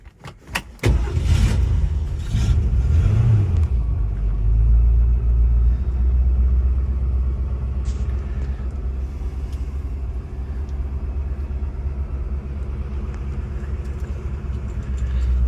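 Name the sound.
1965 Ford Mustang V8 Fastback engine rumbling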